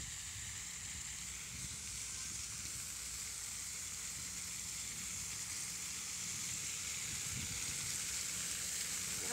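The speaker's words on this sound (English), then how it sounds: "you can probably hear the water behind me all being watery" Splashing water from a splash pad fountain at an outdoor park on a hot day, a steady broadband hiss of spray and falling water lasting throughout, moderately distant and fairly quiet, with no talking.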